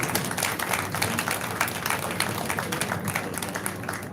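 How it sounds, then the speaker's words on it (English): An audience at a hospital faculty lecture claps in a round of applause, a dense, even patter of many hands at moderate level that carries on without speech. "Shall we give her a round of applause?"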